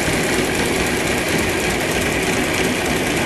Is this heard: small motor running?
yes